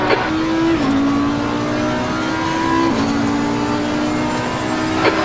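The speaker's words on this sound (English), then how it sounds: "Car approaching, watch your mirrors, blue flag." Race car in the racing game Assetto Corsa Competizione during a big-grid race at Barcelona: a loud, steady engine drone that drops in pitch through gear shifts, with no talk.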